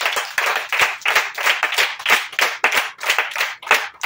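A church congregation claps in acclaim of Jesus, loud close rhythmic hand claps in a fast steady beat, many hands together, with brief uneven pauses between bursts.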